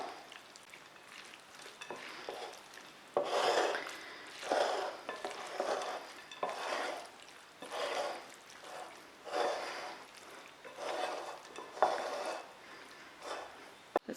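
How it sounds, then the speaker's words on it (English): A Mediterranean salad of olives and pine nuts being stirred, with soft rustling, tumbling bursts that repeat at irregular intervals, close and fairly quiet. "I'm also going to add our pine nuts. So let's give it a stir."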